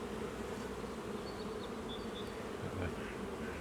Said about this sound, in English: So we can see some bees emerging.